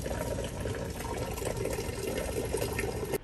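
Water gushes out of an RV fresh water tank overfill in a steady, dense, rushing flow, loud and unbroken from start to end with no one speaking.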